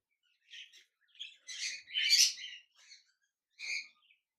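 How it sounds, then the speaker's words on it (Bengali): A pair of lutino red-eye budgerigars chirp from a cage in a series of short, bright tweets and chattering bursts. The calls come in a loose rhythm, separated by brief silences, close and moderately quiet. "এখানে দেখতে পাচ্ছেন এক জোড়া লুটিনো রেড আই বাজরিকার পাখি রয়েছে"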